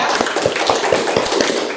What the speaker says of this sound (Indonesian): berikan tepuk tangannya ya